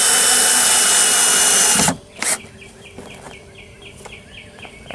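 A power drill drives screws in a short loud continuous whir that stops abruptly, followed by a quieter room with faint bird chirps.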